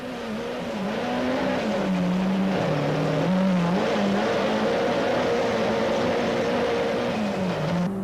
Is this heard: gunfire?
no